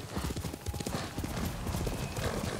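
Galloping horse hooves in the video game Ghost of Tsushima, a fast, steady clip-clop rhythm filling the whole stretch, close and loud over rushing game ambience, with a brief whinny-like cry partway through.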